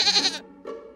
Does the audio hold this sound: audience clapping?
no